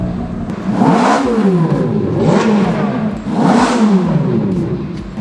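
Rented Ferrari engine revving repeatedly, loud and close, with rising and falling pitch sweeps in steady cycles, no talk over it.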